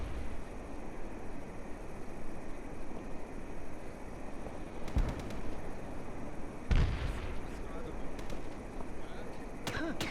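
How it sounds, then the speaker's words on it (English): Grenade blasts in the video game Socom 2 during an embassy siege mission, two sharp booms with brief rumbling tails amid low battlefield ambience, a voice speaking faintly beneath. "Oh, it's a grenade."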